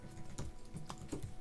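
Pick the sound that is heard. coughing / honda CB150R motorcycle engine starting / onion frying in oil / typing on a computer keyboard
typing on a computer keyboard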